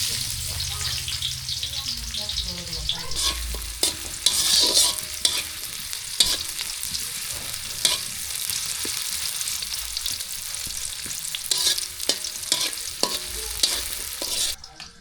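Chopped onion sizzles loudly in a pan while being stirred with repeated scraping, clanking strokes of a spoon, close and busy throughout, with faint voices briefly underneath.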